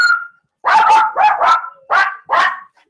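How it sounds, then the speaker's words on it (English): Dogs barking at home, a few short bursts of loud, close barks in quick succession after a brief higher yelp. "The dogs will bark soon because the girls are home."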